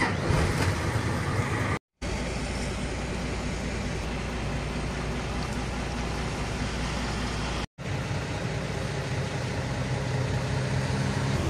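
A heavy truck engine idles while warming up in Dubai, giving a steady low rumble with constant broadband noise. Two brief silent dropouts interrupt the sound, and no one speaks.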